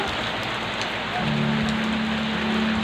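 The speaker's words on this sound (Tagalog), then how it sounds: "lakas-lakas ang ulan" Heavy rain pouring down steadily, a dense close hiss of drops drumming on surfaces with a low hum joining partway through.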